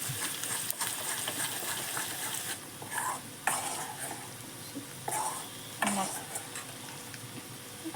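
Jaggery cooks in a pan, a soft hissing simmer broken by several stirring scrapes and clatters, close and fairly quiet, with no talk.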